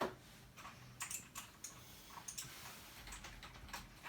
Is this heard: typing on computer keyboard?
yes